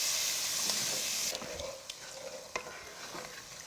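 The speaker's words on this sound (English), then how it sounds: "just stirring to make sure we get all those good brown bits from the meat juices up off the bottom" A hot pan of beef burgundy is deglazed with stock and red wine: a loud hissing sizzle fades after the first second into a softer simmering fry, with a few sharp scrapes and taps from a stirring utensil, no talking.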